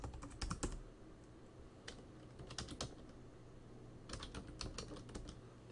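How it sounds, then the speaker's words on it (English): Someone types on a computer keyboard entering commands into an Ubuntu Linux terminal, with soft bursts of rapid key clicks separated by short pauses, close and fairly quiet. "I just type the terminal"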